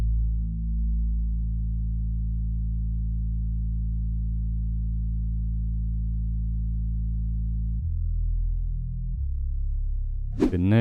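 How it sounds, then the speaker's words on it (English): Deep bass one-shot taken from a drum kit, playing sustained low notes that follow chord roots, holding one long tone for several seconds before shifting pitch twice, loud and alone with no voices. "So then I went on and added this bass, which is a one shot from a drum kit."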